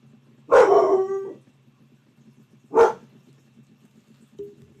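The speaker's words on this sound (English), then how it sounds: "Dogs, please don't bark or I'm gonna have to take you upstairs." Dogs bark indoors, a long cluster of barks followed by a single sharp bark a couple of seconds later, fairly loud and close over a low steady background hum.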